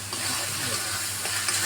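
Chicken liver curry with Kashmiri chili powder sautéing in hot oil in a pan, a steady close sizzle and hiss with faint stirring, no voices.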